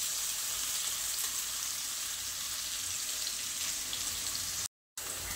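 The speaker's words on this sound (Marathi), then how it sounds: "आता कांदा छान असा लालसर परतून घ्यायचा।" Chopped onion sautéing in a pan over a low flame for a dhaba-style lasooni methi, a soft, even sizzle that hisses steadily with no talk, briefly cutting out near the end.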